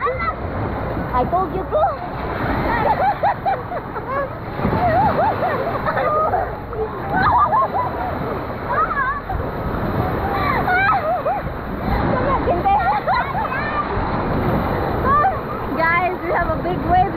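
Wave pool water at Mango Ranch Water Park in Valencia churns and splashes continuously, with loud crowd chatter, children shouting and people talking close by throughout.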